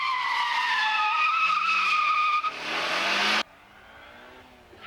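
Tires squeal loudly as a 1990 Daihatsu Rex 660cc kei car skids through a full-throttle handling test, a sustained shrill screech over the engine that cuts off sharply, leaving a faint engine hum.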